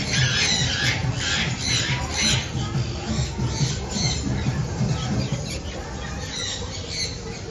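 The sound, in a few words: South American conure parrots squawking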